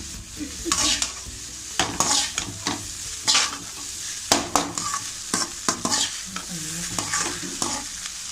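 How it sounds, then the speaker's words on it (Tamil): Chicken fried rice tossed and stirred in a pan over a full high flame, with a spatula scraping and clanking in irregular strokes over a steady loud sizzle, close up and without voices. "கடைசியாக 1 மினிட் வந்து நல்லா தீயை ஃபுல்லாக வச்சுட்டு மிக்ஸ் பண்ணிக்கோங்க."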